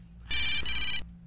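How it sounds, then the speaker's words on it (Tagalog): A cellphone ringtone sounds alone in a quiet room, one bright electronic tone pattern lasting under a second with a brief break partway through. "Ang cellphone ko."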